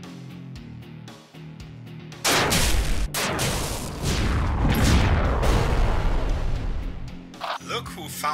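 Mech weapons firing in the Battletech video game, a sustained barrage of loud booming shots and explosions building over several seconds, with rumbling blasts overlapping, after a quieter stretch of game sounds.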